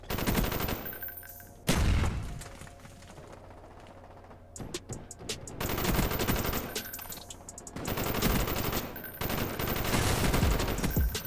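The Commando rifle in a Call of Duty match fires in long rapid automatic bursts, loud and close, split by brief pauses with the clatter of game action between them.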